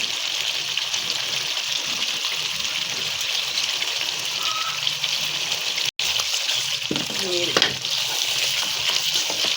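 Mutton sizzling steadily in a pan after lemon is added, a loud, continuous close-up crackle and hiss throughout, with a brief clatter of stirring near the end.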